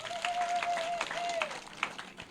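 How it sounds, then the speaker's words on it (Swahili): A crowd at a public event in Embu claps for an honourable guest, an MP opening an administration block. The applause is brief and moderate, with a voice over it. "pigieni mheshimiwa makofi"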